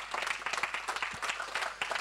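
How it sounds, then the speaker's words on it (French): Applause from a small crowd at a local ceremony honouring a prize winner, modest and fairly quiet, with separate claps standing out in a loose, uneven rhythm. "vous pouvez applaudir."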